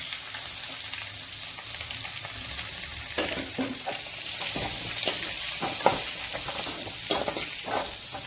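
Onions and green chillies fry in a pan with a steady, close sizzle, broken by occasional stirring scrapes and crackles; no one speaks.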